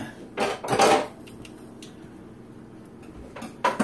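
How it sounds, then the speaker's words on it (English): A cooking pan shifted across a kitchen stovetop while preparing chicken, giving two short bursts of metallic clatter and scraping near the start, a quiet stretch, then another brief clank at the end. "let's move the pan over"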